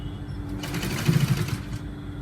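A sewing machine stitching a button-up shirt runs in one short, steady burst of rapid mechanical whirring, close and clear, with quieter room hum before and after.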